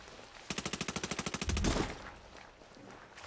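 Burst of automatic gunfire in the tactical shooter Ghost Recon Breakpoint during PvP play, about a dozen rapid evenly spaced shots followed by a heavier blast, then quieter ambient noise.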